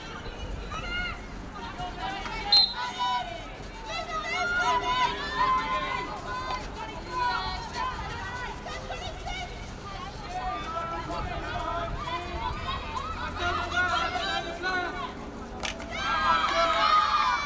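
Spectators at a field hockey match between Beeston and East Grinstead raise a sustained, fairly loud cheer and babble of voices across the whole stretch, with shouts rising and falling in a dense crowd wash.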